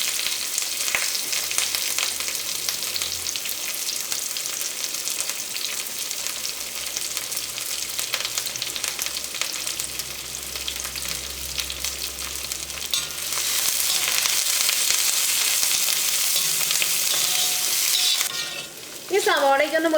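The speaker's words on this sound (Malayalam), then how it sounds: "ഈ ചൂടായ വെളിച്ചെണ്ണയിലേക്ക് സവോളയും ഇഞ്ചിയും വെളുത്തുള്ളിയും പച്ചമുളകും കറിവേപ്പില ഇട്ടിട്ടൊന്ന് വഴറ്റിയെടുക്കുക" Onion, ginger, garlic, green chili and curry leaves sauté in hot coconut oil for a Kerala chicken curry, a steady loud sizzle with stirring scrapes throughout, swelling louder toward the end.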